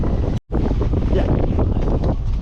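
Strong wind buffeting the microphone while night sailing on the Irish Sea, a loud, continuous roar with rushing water beneath and one brief dropout near the start.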